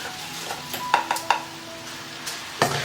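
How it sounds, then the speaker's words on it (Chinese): Rice seasoned with salt, pepper and a little soy sauce is stir-fried in a wok over a soft sizzle. A spatula scrapes and clinks against the metal in irregular, close strokes. "翻炒均匀"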